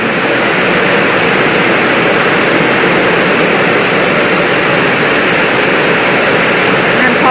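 Steady, loud rushing water roars continuously after rain, a dense broadband wash like a flooded stream or heavy runoff, with no pauses.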